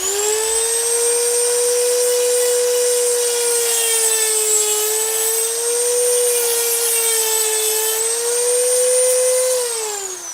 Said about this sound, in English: What's the best way to cut that? Oh yeah, I have a Dremel.